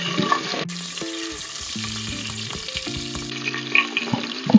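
Chicken curry cooks in a pan over medium heat with a continuous soft sizzle and occasional stirring scrapes, while music plays prominently over it throughout.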